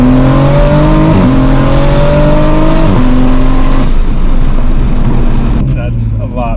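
A tuned BMW G87 M2 races a big-turbo Toyota Supra, loud engines revving hard through repeated gear shifts, with a roaring, rising drone and rushing noise late on; a voice is also present.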